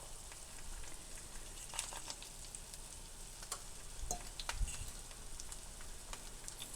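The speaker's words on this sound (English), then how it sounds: "over the crackling sounds of the pans." Day lilies frying in hot cast iron pans, a faint, steady sizzle with scattered pops and crackles running throughout, close and with no talk.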